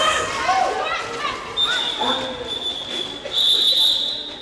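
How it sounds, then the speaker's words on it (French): A referee blows a long, shrill whistle ending a jam at an indoor roller derby bout, sounding twice over a lively crowd and arena noise, with people talking throughout. "pendant le coup de sifflet final de ce jam"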